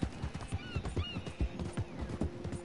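Horse hooves clip-clopping at a steady pace in the Red Dead Online video game, a fairly close, regular rhythm of hoof beats with an occasional faint whinny and no talk.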